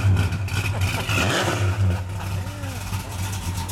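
A 1968 Dodge Coronet R/T with a 440 V8 runs with a steady, deep low rumble and light throttle blips, close by, with faint voices in the background.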